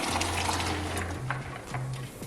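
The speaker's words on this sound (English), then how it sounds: "So I am going to pour this into the pot with the water and the peas." Water and peas are poured into a cooking pot for Jamaican stew peas, a steady close splashing and gurgling stream with a low hum beneath it.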